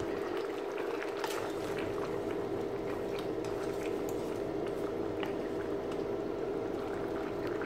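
A pot of brinjal and drumstick tamarind gravy with potato bubbles at a steady simmer, a continuous soft burble with faint pops throughout and no other sounds.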